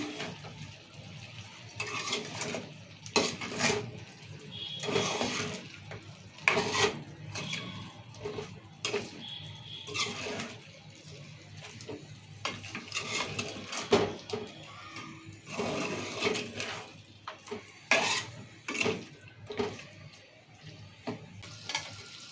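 A spoon scrapes and clanks around a pot of chicken curry with salt, chilli and coriander powder cooking in oil, in irregular bursts of stirring over a soft sizzle.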